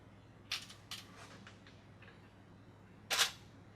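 A Canon FD-era SLR camera shutter fires a few times at slowing speeds, with sharp close mechanical clicks spaced apart in a quiet room and a louder final release.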